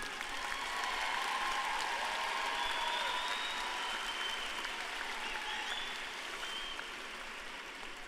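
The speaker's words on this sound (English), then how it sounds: "can we please give your support team, your support system, a round of applause for everything they have poured into you?" A commencement crowd at a Palo Alto graduation gives a sustained round of applause for the graduates' support team, a broad, even hiss of many hands clapping from a distance that eases slightly toward the end.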